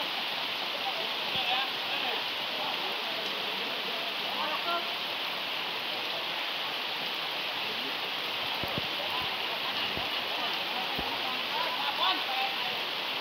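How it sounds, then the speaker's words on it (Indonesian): Steady, heavy rain hisses continuously over a gourami fishing pond, a dense rushing wash of water with occasional louder drops, fairly distant and even throughout. "Trek hujan-hujan"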